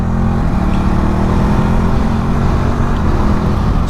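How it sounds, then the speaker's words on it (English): A 2021 Ducati Multistrada 950 S motorcycle engine runs steadily and loudly up close, a constant mechanical drone with no clear break at the quick-shifter upshifts. "Yeah, the quick shifter is absolutely buttery smooth."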